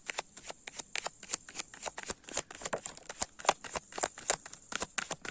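Tarot cards being shuffled up close, a quick run of crisp riffling flicks and slaps in an uneven rhythm, with no talking.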